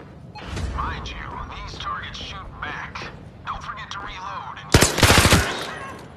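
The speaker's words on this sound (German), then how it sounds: "Oh, die schießen zurück." Enemy gunfire in the VR shooter Zero Caliber Reloaded, heard as a short, loud burst of rapid automatic shots near the end, with someone talking throughout before it.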